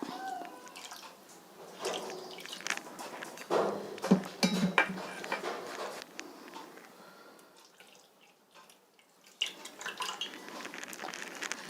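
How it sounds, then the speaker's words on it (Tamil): Water is poured and trickles into a bowl of semolina nearby, with soft drips and splashes, alongside small clinks and handling noises. "அதே மாதிரி நம்ம ரவையிலையும் முழுகிற அளவுக்கு தண்ணி சேர்த்துக்கலாம்"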